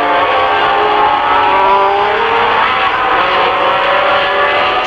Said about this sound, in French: À plus de 200 km/h, roue dans roue, Arnoux sur Renault et Villeneuve sur Ferrari